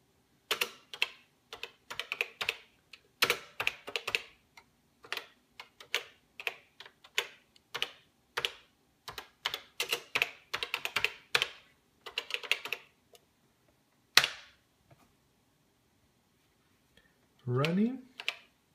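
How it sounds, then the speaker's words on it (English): Someone types on a computer keyboard with one hand while working in a CP/M emulator, producing quiet, uneven bursts of key clicks with pauses, a short gap, then a final flurry. "Oh, typing with one hand's complicated."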